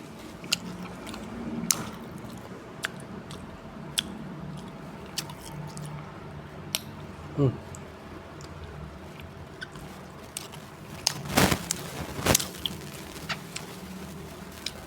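Close chewing while eating chicken from a boiled chicken dish, sporadic soft wet squishes and small crunchy clicks with a couple of louder bites near the end over a low background hum.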